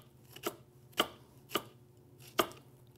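Knife cutting French shallots on a board, four crisp, distinct chops spaced unevenly over a few seconds, close and clear against a quiet background with no talking.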